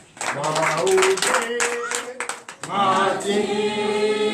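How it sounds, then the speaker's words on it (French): Congregation clapping in acclamation during a church deliverance and prophecy night service, a fast steady clatter of hands mixed with loud voices calling out and singing throughout. "Donne l'acclamation à Jésus."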